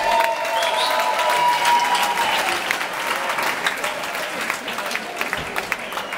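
A concert audience applauds for a band at a Christmas party, a steady dense wash of clapping at close range that holds for several seconds and slowly thins toward the end, with a brief voice underneath.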